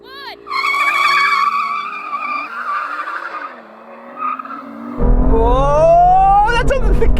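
A BMW M2 launches hard in a drag race, engine revving loudly and rising through the gears while its tires skid and squeal, with voices talking over the run.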